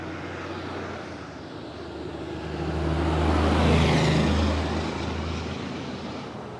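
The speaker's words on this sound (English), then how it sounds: "let's just cross before the truck comes across the street." A truck passes along a town street, its engine rumble swelling from moderate to loud as it nears and then fading away, with no talk over it.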